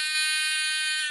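Electronic buzzers in a classroom capacitor-discharge circuit give a single loud, steady, harsh high-pitched tone that holds level for about a second with no talking.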